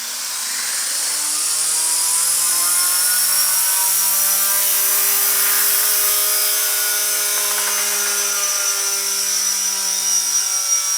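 A Gaui Hurricane 200 electric RC helicopter spools up slowly indoors, its rotor and motor building into a steady, close, high whine that rises gently in pitch and holds at a low head speed.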